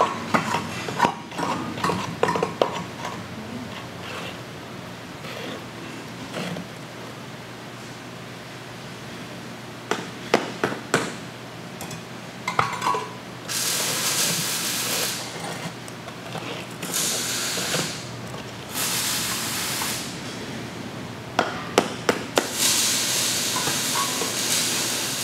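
A valve box cleaning tool called The Blue Screw shaves debris from the sides of a buried valve stack, giving long stretches of harsh hissing scrape broken by clanking metallic knocks and rattles, loud and close throughout.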